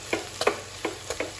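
Chili powder being stirred and sautéed in a pan, with about five separate scraping spoon strokes against the pan over a low background sizzle, close and fairly quiet.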